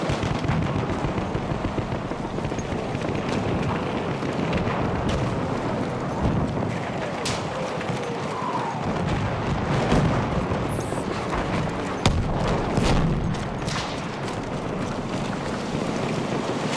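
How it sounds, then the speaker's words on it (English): Enemy machine gun fire in Battlefield 1 on the Zeebrugge map rattles as sharp cracks and bursts scattered over a constant roar of wind and battle noise, with louder isolated reports punching through. "Machine gun, one of theirs."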